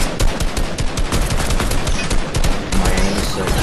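Rapid automatic gunfire in the video game Fortnite, a loud close stream of sharp shots firing in quick bursts almost without pause.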